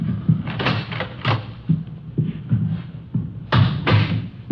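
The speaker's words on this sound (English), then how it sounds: "I'll get the door." A door is opened in a 1952 radio police drama set in a hotel manager's rooms, heard as a run of muffled, evenly spaced thumps and knocks at close range, with no talking.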